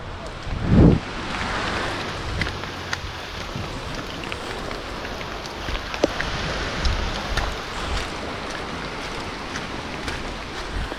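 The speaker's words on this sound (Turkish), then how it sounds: "Abi gün boyu yağıyor normal." Heavy rain pours down in the Amazon, a continuous dense roar of drops with scattered closer splashes and a brief heavier thump near the start, no one speaking.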